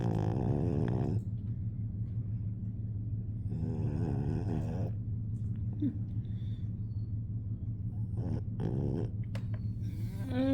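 A sleeping dog snores steadily, with a low droning rumble throughout and a few louder, rougher snorting breaths up close; no one talks.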